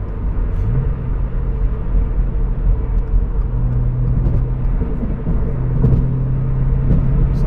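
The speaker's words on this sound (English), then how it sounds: "There's a lot of traffic here" Steady low rumble of a car driving through congested morning traffic, a continuous close engine and road drone with faint passing-vehicle swells and no talk.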